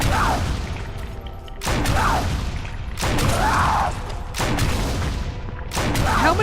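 Grenades burst in Resident Evil (2014): five heavy, booming detonations roughly a second and a bit apart, each with a thick rumbling tail that runs into the next blast.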